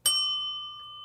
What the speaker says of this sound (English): learned to ring the bell properly